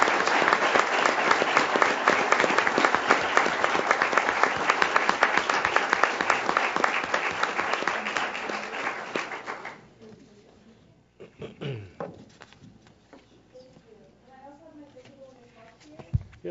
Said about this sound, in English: So let's give Sophia a round of applause.